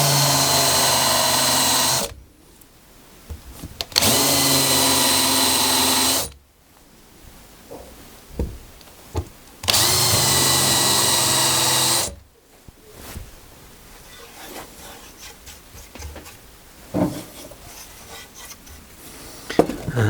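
A power drill fitted with a countersink bit cuts into wood in a workshop, whining steadily in three loud runs of about two to four seconds, with quiet handling and clicks between them.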